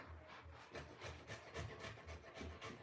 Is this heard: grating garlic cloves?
yes